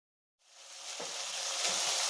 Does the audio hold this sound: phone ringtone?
no